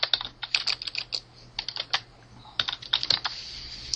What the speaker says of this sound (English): You can backspace, delete that text that's already there, type in your first and last name